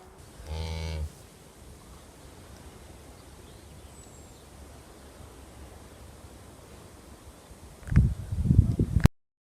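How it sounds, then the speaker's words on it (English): Young calf on a sheep farm gives a single short moo near the start, then quiet outdoor ambience with wind, and rustling and handling noise close by at the end. "Who's that little calf there? Hey? Is that your little calf?"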